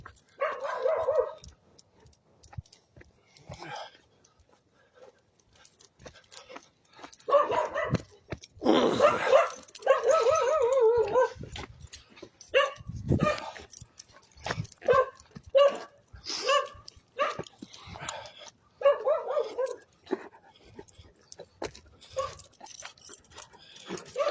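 A Doberman Pinscher barking repeatedly while out on a walk, loud close barks in irregular bursts with whimpering and yips between, alongside a person talking.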